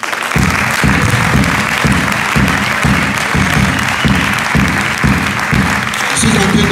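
A church congregation claps steadily through a Sunday worship service, loud and close, with a regular rhythmic beat like clapping in time and a continuous wash of crowd noise over it.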